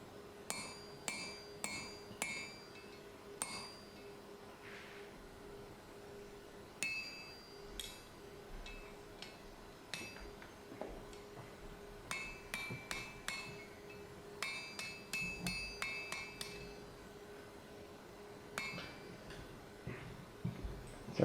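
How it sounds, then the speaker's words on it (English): A hammer drives a punch through hot steel to open a rivet hole in the hinge plate of scarf-welded Viking tongs, sharp ringing blows landing in quick bursts separated by short pauses. "Punch the hole for the rivet."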